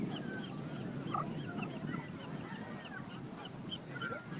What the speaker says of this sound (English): Look at all the birds coming in.